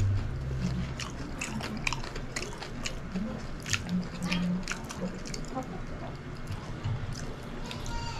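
Biting and chewing into cheese-filled lumpia, soft crunchy chews and squishy mouth sounds repeating close up through the clip, with a voice talking over them.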